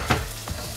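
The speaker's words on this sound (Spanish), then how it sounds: "es el aceite lo que se está friendo" Garlic sizzles in hot olive oil in a pan, a soft steady frying hiss broken by a couple of sharper crackles and pops.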